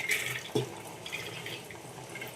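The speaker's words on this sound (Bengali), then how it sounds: "আর একবার ভালো করে ধুয়ে জলটা ফেলে দেব" Soaked chana dal lentils being rinsed and the water drained off, a brief close splash and trickle of running water with a small clunk, no voices.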